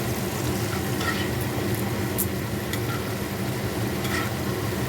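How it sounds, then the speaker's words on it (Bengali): Beans fry lightly with salt in a pan, a continuous low sizzle under occasional clicks and scrapes of stirring, close and moderately loud, with no talking. "বিনসগুলো হালকা করে ভেজে নেব"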